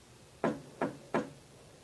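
Three sharp knocks on a glass mirror in an animated horror story sound evenly spaced and fairly faint, each a crisp tap over a quiet background.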